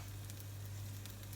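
Pancake batter sizzling in a hot pan, a steady, soft hiss with faint crackle, close and continuous, with no voices.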